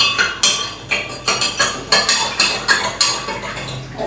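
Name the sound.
spoon stirring sugar into sherbet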